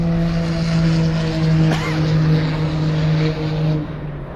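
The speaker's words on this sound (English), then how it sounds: "here comes Todd in the GT2 RS" A Porsche GT2 RS race car drives at a speedway, its engine a loud sustained drone that swells and eases slightly as it passes. No one speaks.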